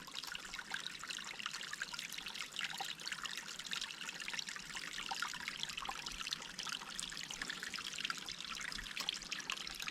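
Creek water trickles and gurgles steadily over a low sandbag barrier, a continuous close babbling stream with no voices.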